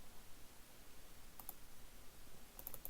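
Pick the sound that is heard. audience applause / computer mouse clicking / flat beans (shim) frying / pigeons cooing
computer mouse clicking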